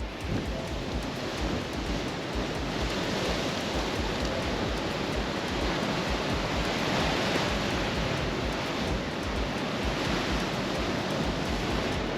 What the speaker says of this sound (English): it is quite windy out here, so I'm not sure how good this audio is going to be